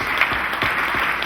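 A live audience gives steady, close applause for people walking to a stage at an event, with loud, dense clapping and no voices over it.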